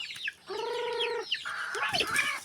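Chicks on a farm peep and cheep in a fast run of high, thin calls, close by and fairly loud, with one sustained chirping stretch and more scattered cheeps after it.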